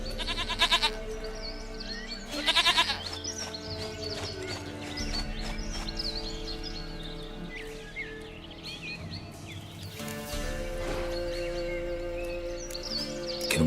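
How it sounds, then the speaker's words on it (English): Goats bleat in The Witcher 3 video game, several wavering cries near the start and again later, set over layered game music and ambient sound. "Goat of mine, dearest, sweetest goat."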